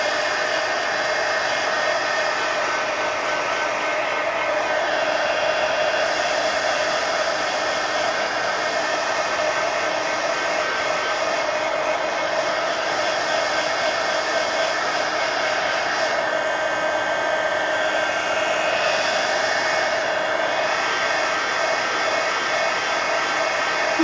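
Hair dryer blowing on a mixed media collage page in an altered book, a loud, steady, unbroken roar lasting throughout with no voices.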